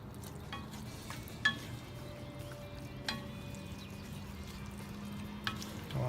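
Buffalo chicken dip stirred in a pan on a grill, a quiet steady bubbling sizzle broken by a few soft scrapes and clinks of the spoon.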